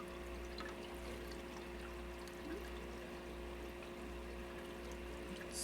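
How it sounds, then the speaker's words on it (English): Water scooped into a cup from an aquarium tank for a test kit, a faint, steady pouring and trickling wash with no talking. "Dip out a cup full of water."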